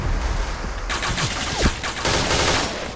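Rapid gunfire from a shooting video game, crackling in loud overlapping volleys with a brief whooshing sweep in the middle.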